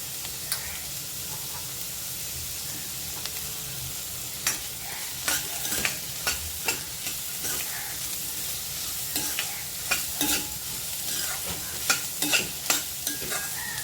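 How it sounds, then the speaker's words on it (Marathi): Carrots stir-fry for veg schezwan fried rice, a constant sizzling hiss broken by frequent sharp spatula scrapes and knocks on the pan that grow more regular toward the end. "गाजर पण टाकून घेते"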